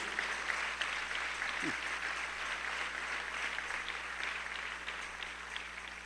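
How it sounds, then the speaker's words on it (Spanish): A church congregation applauds during a Spanish-language sermon, giving a continuous, moderately loud wash of clapping over a low steady hum, with no gaps across the stretch. "El aplauso a Cristo Jesús"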